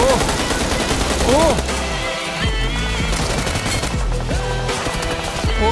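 Automatic gun firing in PUBG Mobile: loud, rapid sustained bursts of shots up close, with a voice talking over the gunfire.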